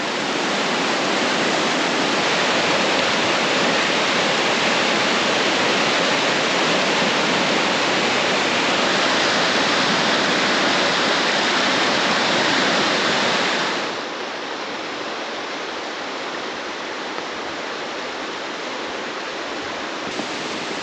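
Hellroaring Creek in Yellowstone, swollen after a night of rain, rushes in a loud, continuous broadband roar of whitewater, dropping slightly in level partway through but staying steady and close with no voices.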